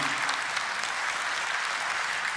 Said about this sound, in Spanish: Eso vale la pena aplaudir.